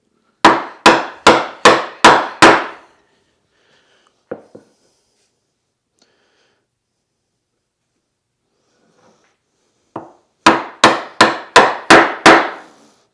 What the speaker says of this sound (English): And I'm actually only whacking away with 3/4 of the chisel.